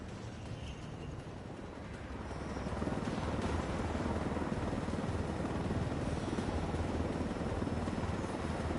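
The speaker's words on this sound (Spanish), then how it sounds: "me las apañaría para pilotar este aparato, pero solo sé pilotar aviones. No helicópteros." Helicopter in the video game Ghost Recon with a steady broadband rotor and engine roar that swells after a few seconds and then holds loud and close, with no talking.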